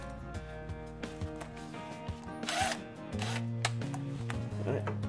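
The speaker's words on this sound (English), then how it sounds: "go ahead and hook up our wrench here" Wrench working on a Ford Mustang Prothane sway bar end link, scattered metallic clicks and knocks followed by a sustained whirring, humming tone in the second half, close and fairly quiet.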